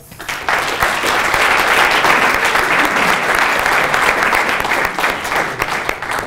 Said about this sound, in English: I want to give all of the recipients another round of applause.